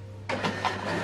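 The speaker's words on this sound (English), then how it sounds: "Now it's printing." An HP OfficeJet Pro 9125e printer starts up abruptly and runs through a page, a loud whirring mechanical feed with rhythmic swells over a steady low hum.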